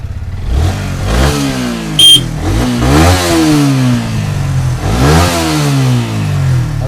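A Yamaha R15 V3 motorcycle, a late-2023 model, revs hard several times, its engine note climbing and falling in repeated surges. It is loud and close, with a brief bright click partway through.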